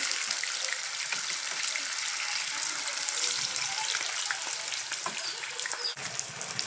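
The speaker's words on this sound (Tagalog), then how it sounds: "antayin lang natin maprito ang sokwa" Sokwa fries in a pan with a steady, bright sizzle. The crackle stays even and close throughout, with faint pops and a small clatter near the end.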